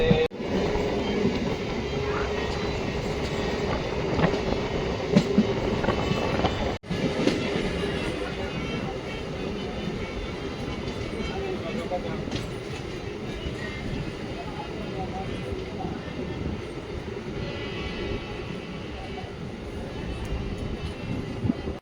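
A MEMU express train runs on rails between KGF and Bengaluru, a steady loud rumble with a sharp jolt partway through, continuing without talk.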